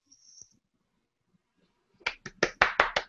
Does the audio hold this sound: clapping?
yes